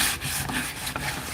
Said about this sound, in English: Probably should have put the finish on these before I installed them, but I'm able to rub it in.